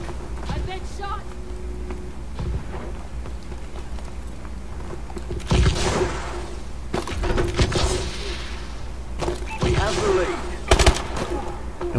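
Submachine gun fire in Call of Duty Advanced Warfare multiplayer on the Defender map, with short bursts of rapid shots breaking out several times under someone talking.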